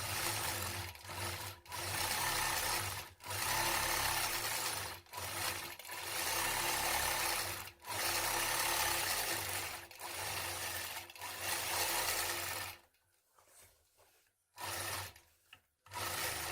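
A sewing machine quilts a fabric block in a steady mechanical whir. It comes in bursts of a second or two separated by brief pauses and trails off into quieter, broken stitching near the end.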